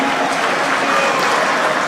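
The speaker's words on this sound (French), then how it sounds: "est-ce qu'on peut bien applaudir pour le Grand Kivu?" Congress audience applauding loudly for the Grand Kivu region at a 2025 USN party congress, a dense steady wash of many hands clapping throughout, with no voices standing out.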